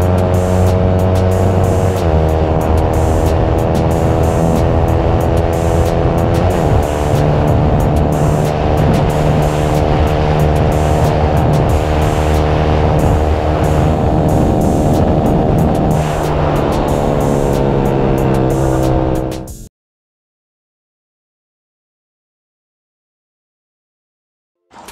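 A Yamaha Sniper 155 VVA motorcycle engine runs loud and close with a steady, smooth idle hum. Pitch rises and falls briefly in a few places before the engine cuts out near the end, leaving silence.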